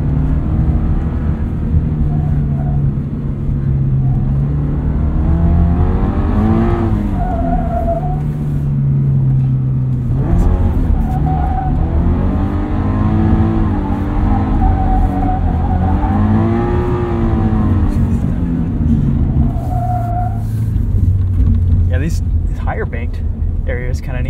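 A 2022 Subaru BRZ rally car drives over bumpy dirt, its engine droning and rising and falling in pitch as it revs through gears, loud and continuous with a person talking over it.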